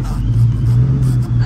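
A race car's engine drones steadily at close range with a low, sustained rumble, revving slightly as the car gets up to speed, under faint cabin noise.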